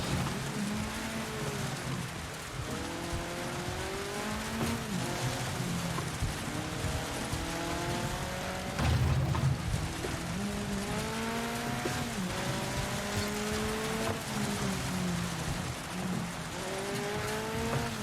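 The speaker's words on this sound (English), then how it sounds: "And it's raining pretty good now." Steady rain hisses throughout an Xbox Series X racing game while a car engine drones and shifts pitch with repeated rising revs, continuous and even in level, with no talk.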